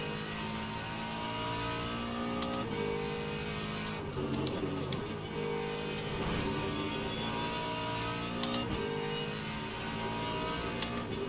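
GT3 race cars, including a McLaren and a Ferrari, roar continuously around Fuji in Le Mans Ultimate, the engine note loud and steady with gear shifts and rising revs throughout.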